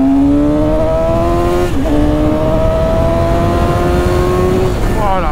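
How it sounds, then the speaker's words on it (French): A 2018 Suzuki GSX-S750 motorcycle accelerates hard in first gear, its engine note climbing steadily in pitch, dipping briefly at about two seconds, then rising again before easing off near the end. The sound is loud, close and continuous. "Allez on va faire une petite accel. Je vais mettre en première."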